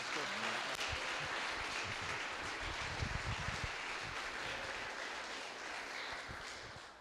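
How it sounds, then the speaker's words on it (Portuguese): A church congregation applauds in a steady, dense patter of many hands clapping at once, sustained and fairly even across several seconds. "Vamos receber o homem de Deus com a salva de palmas para Jesus?"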